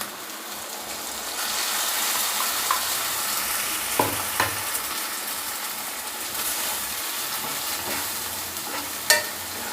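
Ground tomato paste sizzles steadily in hot oil with sautéed garlic and onion for a Tamil poondu kulambu, with close, continuous frying hiss and occasional scrapes and clinks of a stirring spoon.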